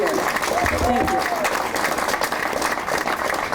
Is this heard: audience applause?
yes